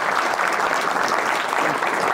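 An audience applauds a speaker at a live talk, with dense, steady clapping that stays loud and even for the whole stretch.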